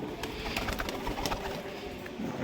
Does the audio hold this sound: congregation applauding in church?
no